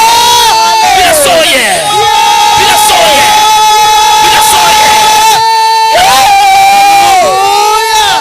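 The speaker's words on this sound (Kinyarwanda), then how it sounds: "vugiriza Imana impundu" A church congregation ululates and cheers in praise of God, loud and close, with high trilling ululations and shouts layered over one another in waves, with a brief lull near the end before it surges again.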